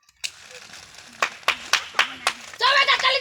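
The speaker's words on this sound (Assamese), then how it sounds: "বঢ়িয়া তালিয়া তালি বজাবি চবে" Children clap their hands at a party in a few single sharp claps, then a burst of rapid group clapping at the end, with faint voices around.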